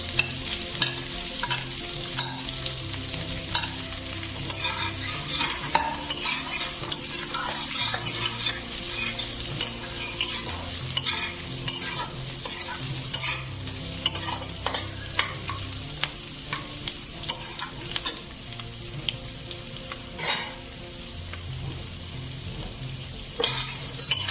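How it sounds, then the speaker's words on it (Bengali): Potatoes sizzle and fry steadily in spice paste in a pan, with repeated scraping and stirring clicks over a low background hum. "আলুটা আমার মশলার সাথে ভাজা হয়ে গেছে খুব ভালো করে"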